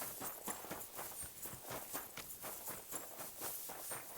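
Horse hooves in the video game Kingdom Come Deliverance II give a steady, rhythmic clip-clop at a walking pace, fairly faint and with no talking over them.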